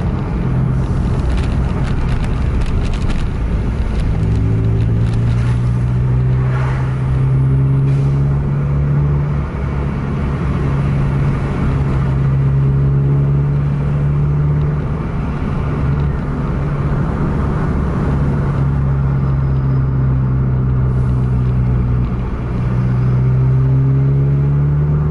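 Double-decker bus on an Indonesian road, its steady mid-pitched engine droning loud and close for the whole stretch as it overtakes a truck, with the engine note rising and falling slightly and no talk.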